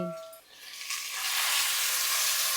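Tomato pieces and small green chilies frying in a pan for a vegetable curry, a sizzle that swells from quiet to a steady, bright hiss after a short tonal sound at the start.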